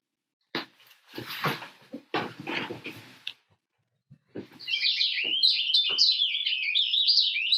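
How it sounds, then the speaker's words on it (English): A purple finch sings a long, bright, continuous warbling song after a few knocks and scuffles, moderately close and steady over the last few seconds. "Purple Finch."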